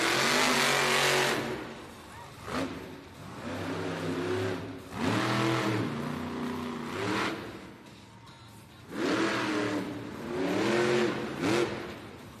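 Sparkle Smash monster truck roaring through a timed racing run in an arena, its engine revving loudly in repeated rising and falling surges with short drops between throttle bursts.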